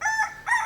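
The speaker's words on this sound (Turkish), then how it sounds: "Ulan ne kadar özlemişim horoz sesiyle uyanmayı be." A short, loud rooster crow in two bursts, close and clear with no talking.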